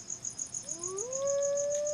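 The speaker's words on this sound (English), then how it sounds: "The damn crickets again." Crickets chirp in the fantasy game SpellForce: The Breath of Winter, a regular high pulsing trill that runs steadily through the clip while a rising tonal sweep swells beneath it.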